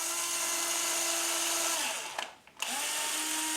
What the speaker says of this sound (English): we're going to take the 1/16 inch bit again, and we're going to drill the pilot holes